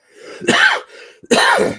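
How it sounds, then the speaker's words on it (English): Two harsh, close coughs, each preceded by a short breathy intake, loud and distinct. "I've got another bloody stupid cough."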